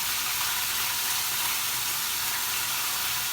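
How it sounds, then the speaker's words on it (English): Chicken frying in a pot for Jamaican brown stew chicken gives a loud, steady, close hiss and sizzle that runs unbroken throughout, with no talk. "you could hear how it's frying up over here."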